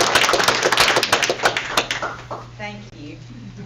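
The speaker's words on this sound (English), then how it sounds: "That deserves a round of applause" A small group applauds at a county board of education meeting in a meeting room, with dense clapping that thins out toward the end as a voice begins.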